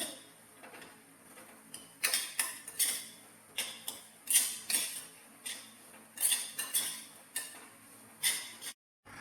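A spoon stirs semolina roasting in ghee in a pan, making a steady series of close, sharp metallic scrapes and clinks in an irregular rhythm, with no talking.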